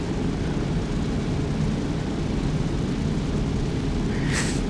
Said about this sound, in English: I have no experience flying a plane.